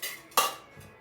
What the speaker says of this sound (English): Stir that all up real good.